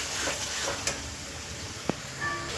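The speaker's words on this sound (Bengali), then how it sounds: "চলুন আবার একটু ভালো করে কষাই মশলাটা" Ground spice paste, whole spices such as black pepper ground at home, being stirred and sautéed in a pan for khichuri, giving a soft, steady sizzle with a couple of faint scraping clinks.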